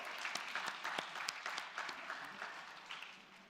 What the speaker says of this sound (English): Can we have a big round of applause for all our media partners?